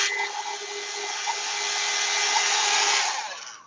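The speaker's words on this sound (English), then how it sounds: "a hairdryer with a cool setting." A hairdryer on its cool setting blows steadily over acetate in a papercraft session, producing a continuous close airy roar that holds for several seconds before switching off.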